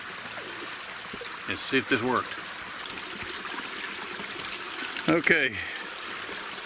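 Water from a ram pump supply pipe trickles and streams continuously outdoors while someone talks briefly over it.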